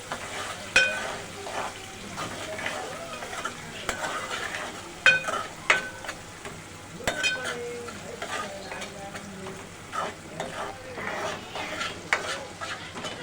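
Onion, tomato, garlic and cumin fry with a pinch of turmeric for a moong dal varan, stirred steadily. Sizzling runs under repeated scraping and clinking of a spoon against the pan.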